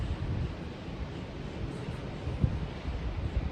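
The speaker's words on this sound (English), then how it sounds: "Now here I am listening to the ocean." Continuous rumble of ocean waves at a beach, close and fairly loud, mixed with wind buffeting the microphone.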